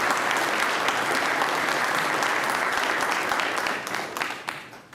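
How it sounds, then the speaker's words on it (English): Audience applause at an Oklahoma City Council meeting for award winners, a dense, sustained burst of many hands clapping that thins and fades toward the end. "one more round of applause"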